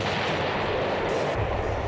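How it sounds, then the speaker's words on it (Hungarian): Dynamite blasting on the seabed, 30 metres deep, during construction of the Golden Gate Bridge: a dense, loud, continuous rumble of explosive booms and crackle. "Lépésről lépésre robbantottak utat a 30 méter mélyen húzódó szikláig."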